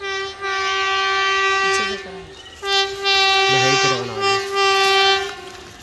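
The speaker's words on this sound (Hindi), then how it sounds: "देख सकते हैं ट्रेन आ रहा है" A train approaching on railway tracks in a rural village, its long horn sounding steadily and loud through most of the clip, with a brief break and low rumble beneath, and a voice talking briefly over it.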